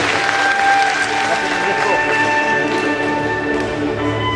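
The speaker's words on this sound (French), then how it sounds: "Un petit peu d'applaudissements pour Ivani." Applause for a child at an evening results ceremony, steady clapping from a crowd mixed with a continuous musical backdrop and some voices.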